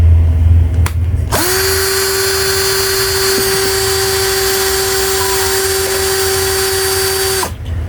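A Soarfly 20V cordless drill spins up at speed 1 after a brief click, holding a steady, loud, close whine for about six seconds before cutting off.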